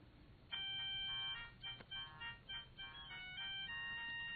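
A phone rings with a looping electronic ringtone melody, bright and fairly quiet, playing on its own.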